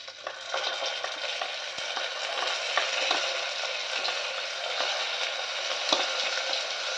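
Roasting in a pan until golden brown for sweet pongal gives a steady soft sizzle with faint stirring scrapes, close by and fairly quiet, with no talking.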